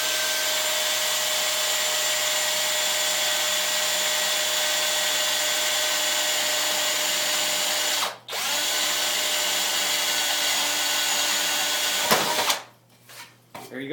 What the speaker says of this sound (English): I'm just going to drill the hole out